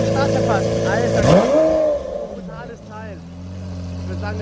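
A Lamborghini Murcielago Gumball rally car engine revs loudly up close, rising in pitch to a sharp peak and then falling back to a lower, rumbling idle, with people talking over it.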